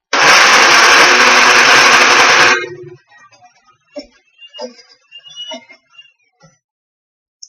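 A blender on high speed whirs loudly and steadily for about two and a half seconds while mixing fruit and vegetable dip ingredients, then switches off, leaving scattered faint clicks and small handling sounds.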